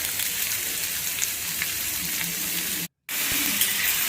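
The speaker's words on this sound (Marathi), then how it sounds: "आता आपल्याला हे सर्व भाजून घ्यायचं आहे व्यवस्थित" Onions, garlic, green chillies and tomatoes roasting in a pan for egg masala gravy give a dense, even sizzle up close, broken by a brief total dropout before the frying hiss resumes, with no voices.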